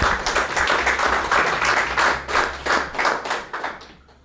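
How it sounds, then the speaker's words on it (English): A small group gives a round of applause indoors, brisk hand claps in a steady rhythmic pulse for a few seconds before tapering off, with no talking. "Round of applause."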